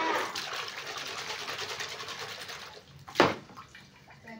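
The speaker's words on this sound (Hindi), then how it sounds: "पानी भी गिरा दी।" Water splashes and pours steadily while clothes are washed by hand at home, with a sharper splash near the end.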